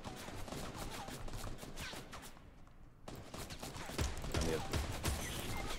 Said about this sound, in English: Keep him pinned down with bullets.